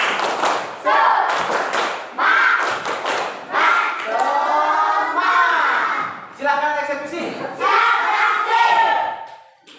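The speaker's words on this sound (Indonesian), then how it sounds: "Tepuk semangat." A group claps a rhythmic Indonesian spirit clap, tepuk semangat, in a classroom or training session, with bursts of sharp patterned claps alternating with loud group chanting and voices.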